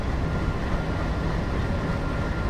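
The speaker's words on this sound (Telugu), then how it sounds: "ఏదో ట్రైన్ వస్తుంది గైస్ ఆపోజిట్లో చూడండి," A train passes on the opposite track in an Indian train simulator game with a WDM3D-hauled Duronto Express, a loud, steady rumbling roar that fills the whole moment without voices.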